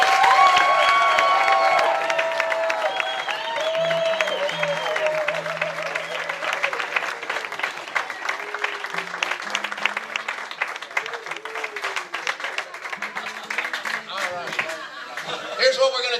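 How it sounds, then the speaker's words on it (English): Live audience at a comedy showcase breaks into sustained applause with cheers and some laughter for the performers, loud at first and slowly thinning, while a few voices talk over the clapping. "we need to give them one big round of applause"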